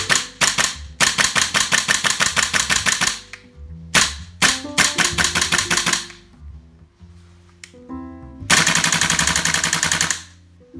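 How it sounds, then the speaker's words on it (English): GHK M4 gas blowback airsoft rifle fitted with a buffer fires in rapid full-auto bursts, close and loud, each burst a fast, crisp mechanical clatter broken by short pauses and a few single shots. "The rifle has a crisper shot with the help of the buffer."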